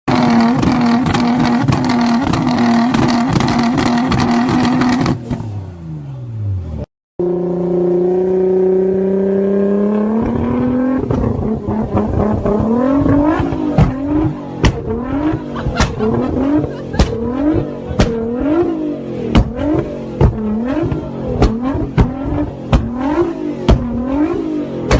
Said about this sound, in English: we got your classic R35 GTRs just setting the place on fire.